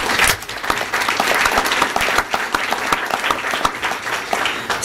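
Audience at a school board of education meeting applauds in a steady, dense round of clapping lasting several seconds, fairly close and loud, with no talking over it.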